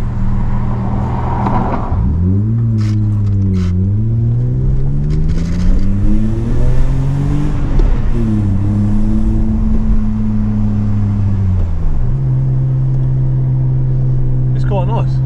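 BMW E34 sedan set up for track use driving along, a loud steady engine drone rising and falling through gear changes, heard from inside the cabin.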